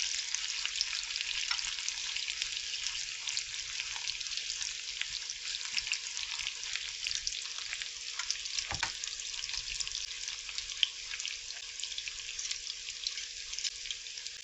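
Bacon and egg fry in a pan, a steady, even sizzle and crackle holding for the whole stretch with no voices and one brief soft knock near the middle.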